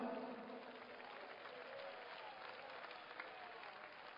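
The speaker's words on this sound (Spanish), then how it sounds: "Puede aplaudir al Señor." A church congregation in Iquitos, Peru applauds together in a steady wash of clapping that starts strongest and eases slightly, heard from a distance and fairly faint.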